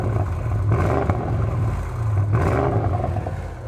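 A 2021 Audi RS6 V8 fitted with a Milltek exhaust revs twice, two throaty swells rising and falling close by, with no talk.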